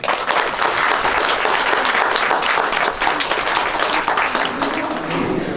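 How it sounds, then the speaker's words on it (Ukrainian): Sustained applause from a crowd at a school graduation evening in Pyatykhatky, Ukraine, a thick continuous roar of clapping hands holding steady for over five seconds. "Ваші оплески"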